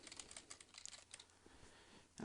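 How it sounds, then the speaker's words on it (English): Someone types a message on a computer keyboard, with quick, irregular, soft key clicks in a continuous run and a heavier thump at the end, all close and quiet. "I can then go ahead and type my message"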